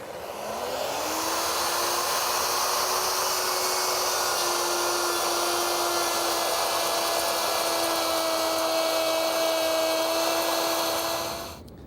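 Router fitted with a 1/2-inch rabbeting bit cutting 1/2-inch MDF, a steady high-pitched whine that spins up at the start, holds loud and close for about ten seconds, then cuts off abruptly.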